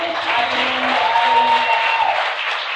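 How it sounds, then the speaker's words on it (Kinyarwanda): A church congregation clapping hands together in a steady, dense wash of applause that fills the space, with faint organ or voice tones underneath. "duhuze ibiganza tumukomera amashyi"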